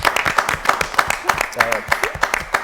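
A live audience claps in a burst of applause, with sharp individual claps audible and a voice speaking over them.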